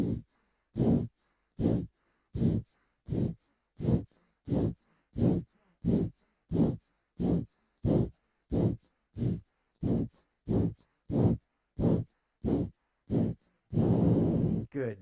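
Slow, even alternate nostril breaths during a yoga session follow one another close to the mic, each nasal inhale and exhale a separate puff with short silences between. A longer, fuller breath comes at the end.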